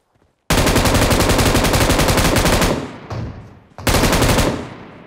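An M249 machine gun in PUBG Mobile fires two long, loud, rapid bursts of evenly spaced shots after a short silence, separated by a brief pause with a quieter tail of sound.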